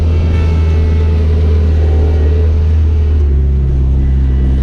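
A vehicle plows snow on a Minnesota driveway, its engine a loud, steady low rumble with a slight drop in pitch partway through, continuous and alone without voices.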